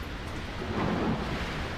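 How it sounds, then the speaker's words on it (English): Rumbling thunder from a storm ahead in the X-Plane 12 flight simulator, heard from a BAe 146 cockpit at about 11,000 feet; a low, steady roll that swells briefly mid-way before easing, alone without talk. "Did you hear that, guys? Wow. Looks like we have a hell of a storm ahead of us."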